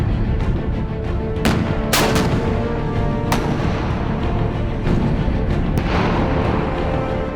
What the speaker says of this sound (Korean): 전차가 기동간 사격을 하며 1200m 떨어진 표적을 향해 실탄을 나눈다